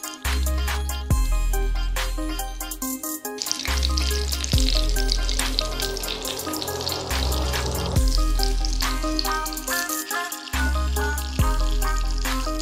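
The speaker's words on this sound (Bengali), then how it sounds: "আর ডুবো তেলেই ভাজতে হবে।" Bengali egg chops deep-fry in a kadai of oil, producing a loud, dense sizzle and bubbling that carries on throughout, with a few sharp knocks along the way and no speech.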